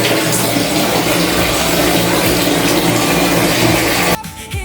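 Water gushes steadily from a tap in a loud, continuous broadband rush, cutting off abruptly near the end and leaving a quieter background.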